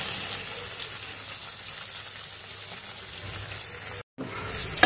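Noodles sizzle steadily in a hot pan with soy and tomato sauce, a dense, even frying hiss that runs without a break apart from one brief cut near the end.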